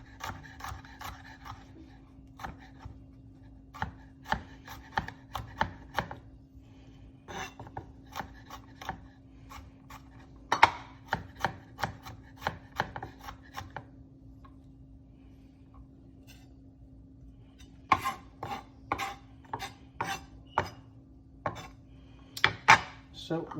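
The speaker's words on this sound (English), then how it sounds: "Now we're just going to slice it into rough pieces." Knife cutting venison into rough pieces on a board for a spicy stir fry, a run of crisp irregular chops and taps close by, pausing midway then resuming in quick bursts over a steady low hum.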